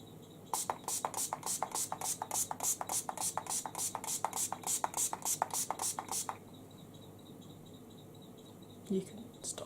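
A pump bottle of makeup setting spray fires about twenty quick, evenly spaced spritzes in a rapid run, close up, then stops and leaves quiet room tone.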